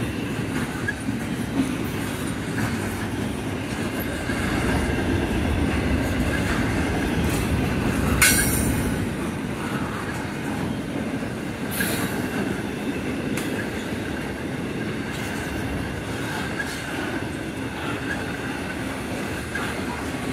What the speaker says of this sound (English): This is the last train.